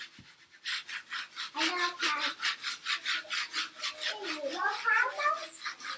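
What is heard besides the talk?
scraper scraping transfer paper onto stencil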